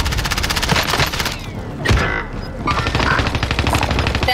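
SMG fire in Call of Duty Warzone, loud rapid automatic bursts rattling nearly nonstop with a short pause midway, close and dominant.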